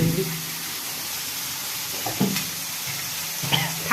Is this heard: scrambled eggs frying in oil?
yes